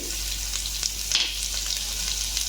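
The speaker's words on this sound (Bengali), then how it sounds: "তেল গরম হয়ে গেছে লঙ্কা দিলাম তেজপাতা গোটা জিরে রসুন কুচি" Dried chili, bay leaf, whole cumin and chopped garlic sizzle steadily in hot oil, a close, continuous frying hiss with small pops and crackles and no talking.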